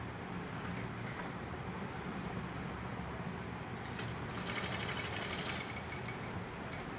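A sewing machine stitching a temple-cut design into cloth for a peplum top, a faint steady mechanical hum that grows brighter and busier toward the end, close with no talk.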